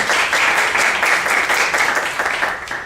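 A church congregation clapping during a Saturday worship service, a dense, steady wash of applause from many hands for a few seconds, fading slightly at the end.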